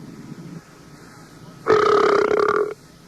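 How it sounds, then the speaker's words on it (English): A single long, loud belch from a woman on a 1989 radio show, one sustained tonal burp lasting about a second after a moment of quiet, with faint low murmur before it. "can you do one straight big burp? One long, big belch."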